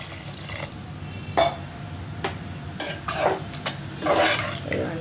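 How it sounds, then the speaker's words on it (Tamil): Water splashes into a simmering pot of capsicum chicken curry, followed by several sharp scrapes and clinks of a spoon stirring against the pan, close by. "இதுல கொஞ்சம் தண்ணி ஊத்திக்கலாம்"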